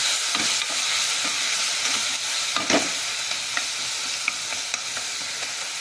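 Steady sizzling of onions sautéing in a pan for a chicken gravy, with occasional scraping and stirring sounds; no talking.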